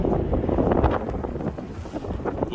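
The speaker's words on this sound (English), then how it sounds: "Wind is picking up." Wind gusts buffet the microphone at an Arizona roadside rest area, a loud, close, turbulent rumble with uneven surges and no talking.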